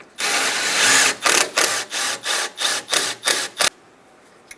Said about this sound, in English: I'm going to take a little wire wheel and hit right here and take the paint off so we can have a good ground.